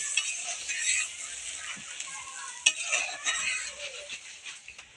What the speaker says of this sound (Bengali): এবার যে ডালটা আমি সেদ্ধ করে রেখেছিলাম সেটা আমি দিয়ে দিচ্ছি টমেটোটার মধ্যে